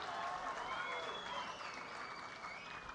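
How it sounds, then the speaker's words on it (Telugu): Crowd applauding at a Chief Minister's public meeting in Macherla, a dense continuous clapping from a large audience with a voice carrying over it. "గట్టిగా చప్పట్లు కొట్టి అభినందించండి"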